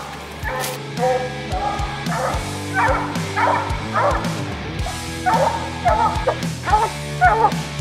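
A bluetick coonhound bays repeatedly at a raccoon up a tree, its loud, rhythmic barks and yips ringing close and continuous through the stretch.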